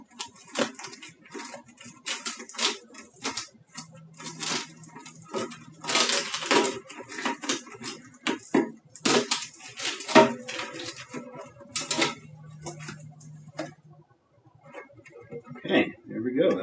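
Tape and styrofoam packing peeled and pulled off a Sonic Mini 4K box, giving a string of crinkly rips, scrapes and squeaky foam rubs under intermittent talk.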